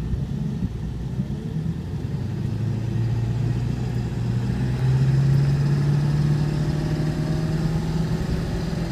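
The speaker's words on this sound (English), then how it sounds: "Turbo spools up nice." A 2002 Ford F-550 XLT truck with a 7.3 diesel engine runs steadily, its low rumbling drone rising in pitch midway as the turbo spools up, with no talking over it.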